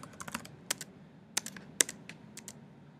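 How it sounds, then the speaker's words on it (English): Quick light keystrokes on a computer keyboard enter a domain name, a close, brisk patter of clicks in an irregular rhythm. "Type in your domain name."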